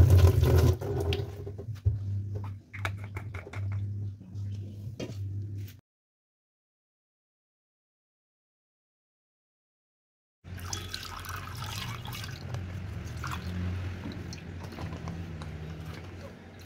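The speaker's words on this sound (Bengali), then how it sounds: "এই অন্ধকার, এই বৃষ্টি, আজকে মনসুনের ফার্স্ট ডে" Rain on the first day of the monsoon, on a dark morning, drips and splashes in irregular close taps, cuts to silence for several seconds, then returns as a denser wet patter.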